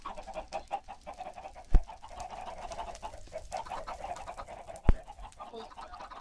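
Minecraft chickens cluck in soft, repeated bursts, with a couple of sharp clicks standing out among the steady, low-level game sounds.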